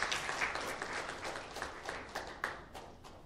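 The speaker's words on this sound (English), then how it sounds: "let's welcome me with a round of applause" Applause from the congregation at a funeral service, steady dense clapping throughout, moderately loud and fairly close, with no speech over it.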